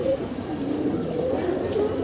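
Pigeons, including a Kali Dhoom Cheena, coo in low, soft, continuous rolls close by.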